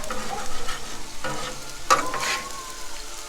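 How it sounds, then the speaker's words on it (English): Rice and scrambled eggs being stir-fried together on a flat top grill for chicken fried rice, giving a steady close sizzle with scraping and stirring clatter, including a sharper scrape partway through, with no talking. "mix those up right here on the flat top grill. And we'll add our little scrambled eggs to our rice."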